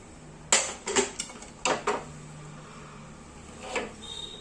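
A steel pressure cooker holding cooked Karad leaf vegetable with dal is opened, giving several sharp metallic clanks and clicks of the lid and whistle weight close by, then a quieter scrape near the end, with no talk.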